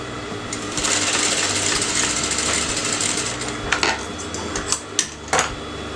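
Up close, a sewing machine stitches a square neckline on canvas fabric, humming steadily for about three seconds before stopping. A few sharp clicks and knocks follow.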